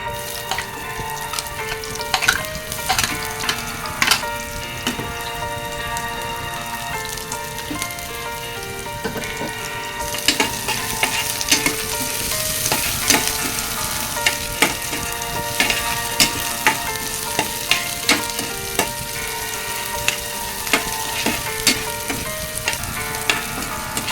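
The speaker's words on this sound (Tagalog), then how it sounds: "Hintayin natin na mag-brown ang ating bawang." Garlic frying in oil until brown: a loud, continuous crackling sizzle with dense spattering pops that grows busier partway through, heard up close with no talk.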